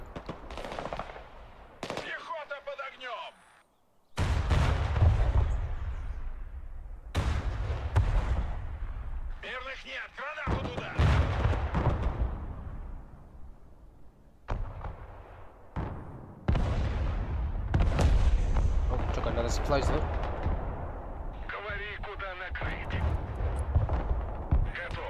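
Machine-gun bursts, artillery blasts and rumbling explosions from the modern war strategy game Broken Arrow sound almost without break, loud and dense, while people talk over the battle noise.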